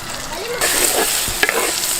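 Ground masala paste hits a hot pan for a dried fish curry and sizzles loudly, with a sudden burst of frying followed by scraping stir strokes, close and without speech.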